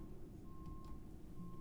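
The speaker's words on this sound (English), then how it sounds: "Oh, dude, I knew that this thing was going to beep." A steady electronic beep tone from a construction machine holds over low rumbling machinery, like a nearby vehicle's reversing alarm.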